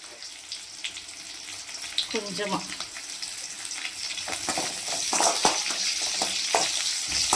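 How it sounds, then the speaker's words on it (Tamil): Ingredients for egg manchurian sauté in a pan, a steady moderately loud sizzle with stirring scrapes and a few splashy bursts that grow slightly louder toward the end. "கொஞ்சம் வதக்கிக்கலாம்."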